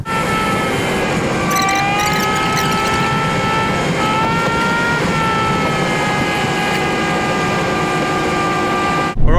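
A Ford AU Falcon cruising on a freeway through a tunnel, its engine a steady close drone with sustained whining tones that shift slightly in pitch, continuous and unbroken until a brief thump at the very end.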